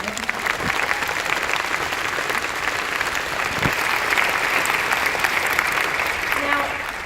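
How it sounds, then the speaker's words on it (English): Graduation ceremony audience for an online academy's class of 2018 breaks into steady applause, a dense, even wash of clapping that stays loud and sustained from start to finish, with a few faint voices underneath. "if there could be a round of applause for that, I think it would be appropriate."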